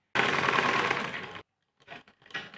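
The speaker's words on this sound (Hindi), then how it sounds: "दूसरा पार्ट जो स्लीव्स का है वो जोड़ के सिलाई कर लेते हैं।" A tailor's sewing machine stitching the sleeve of a ladies' garment, running in one loud continuous burst of rapid mechanical chatter, then stopping and restarting in a few short spurts.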